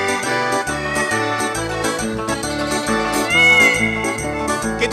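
Cat-like meows sound over a full, busy backing of instruments in a Sicilian folk song, the cries mixed into the music rather than heard alone.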